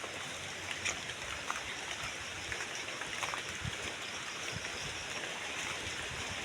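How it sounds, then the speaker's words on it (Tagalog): Heavy rain pours down in a steady, dense hiss with scattered droplet patter, fairly quiet and continuous with no voices. "Lakas ng ulan."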